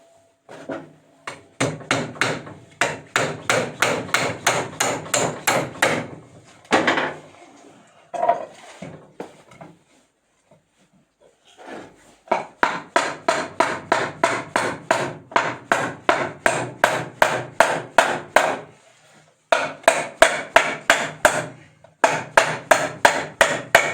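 Nails are hammered into a wooden board while a birdhouse is built: rapid, evenly spaced blows come in long bursts, close and sharp, separated by short pauses and a brief silence.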